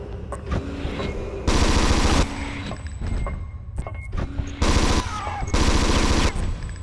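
Gunfire in the Alien Resurrection video game shoots at the player, loud repeated machine-gun bursts in several long blocks separated by shorter single shots and clanks.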